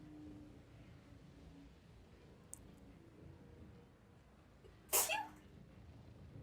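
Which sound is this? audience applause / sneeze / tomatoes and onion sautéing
sneeze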